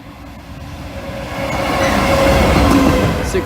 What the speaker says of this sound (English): Apparently the train is approaching Saxilby now, running 17 minutes early.